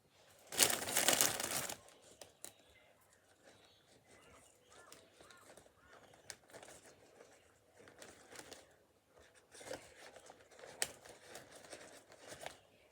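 Flower stems for a posy box arrangement are snipped with scissors, a sharp cut and crinkle up close at the start followed by quieter handling and rustling.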